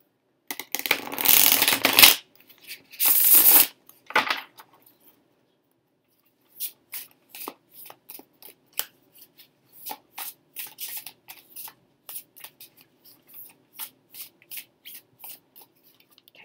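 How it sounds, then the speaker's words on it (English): Tarot cards being shuffled: two loud riffling bursts up close, then a long run of soft, quick card flicks and taps. "shuffle the cards"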